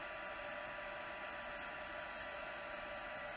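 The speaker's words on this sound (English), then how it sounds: "Remember, low setting on your heat tool and not too close." A heat tool on its low setting blowing onto puff paint for a card accent, a steady, close, even whooshing hum of moving air that runs unbroken the whole time with no talking.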